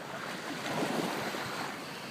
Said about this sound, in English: I am currently at Willard Beach and I am in the ocean, knees deep